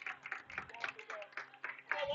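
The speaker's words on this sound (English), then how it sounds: "Both teams applauding that play." Scattered clapping from a crowd, uneven and fairly faint, with voices talking over it.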